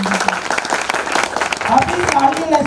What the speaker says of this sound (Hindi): एक बार जोरदार तालियां बजाना